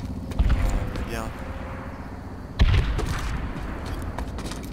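Two heavy booming blasts from explosions in the shooter game PlanetSide 2 land about two seconds apart, each decaying into rumbling battle noise, with someone talking over the action.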